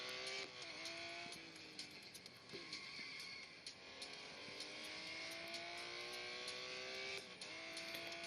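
A race car in the Real Racing 3 video game drives hard, its engine whining in rising and falling revs as it shifts through gears, with other engine tones layered behind it.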